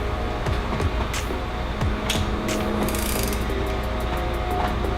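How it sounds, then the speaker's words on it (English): A bolt is loosened on a Honda S2000 engine during a tune-up, with repeated ratcheting clicks and metallic creaks from the wrench over a steady background hum, close and fairly loud throughout. "going lefty loosey."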